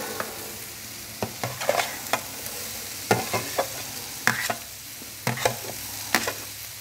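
Onions frying on a Camp Chef FTG600 griddle, a steady sizzle broken by sharp scraping and tapping strokes from a spatula at irregular intervals, close and clear with no voices.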